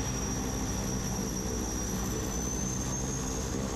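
Steady, droning engine of a seaplane idling at a dock in Dhaalu Atoll, Maldives, before taxiing, a constant near roar with a thin high whine running throughout, no voices.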